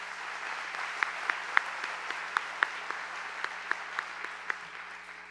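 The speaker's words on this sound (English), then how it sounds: "Let's give them a round of applause." Sparse, scattered clapping at a commencement ceremony for graduates, individual claps sounding distinctly over a quiet hall with a steady low hum, fairly faint and evenly paced.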